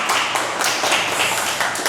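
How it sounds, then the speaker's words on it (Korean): Church congregation at a revival service bursts into loud, close, continuous clapping, a dense crackle of many hands with slight surges, no voices on top. "이쯤 되면 박수 한번 해줘야 되는데"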